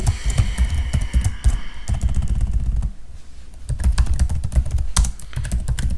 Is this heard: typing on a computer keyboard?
yes